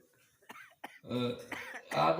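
A man coughs and clears his throat a few times at close range during a religious discourse, the short rough bursts mixed with bits of vocal sound.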